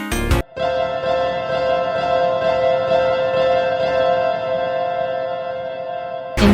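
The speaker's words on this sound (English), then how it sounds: "Slap some reverb on there and it's done." A repeated synthesized chord processed with delay and heavy reverb, forming a dense, sustained, shimmering wash that holds steadily for about six seconds between brief cutoffs at the start and end.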